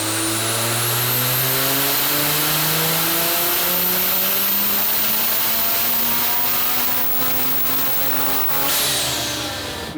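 A rotary-engined Corvette revs hard on a dyno during a pull, its engine note climbing steadily and loudly for several seconds before easing off near the end.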